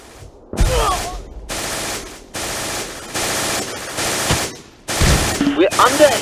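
Heavy gunfire in the Close Combat war game comes as a series of loud, sustained bursts of automatic fire broken by short gaps, with a voice briefly heard among the shots.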